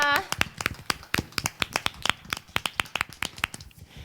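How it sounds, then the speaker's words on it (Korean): Hands clap in a quick, steady rhythm at a church worship service, with about twenty sharp claps in a few seconds. The clapping is close and even, and a voice is heard briefly at the very start. "우리의 구원자 되신 예수님께 감사와 영광의 박수 올려드리겠습니다"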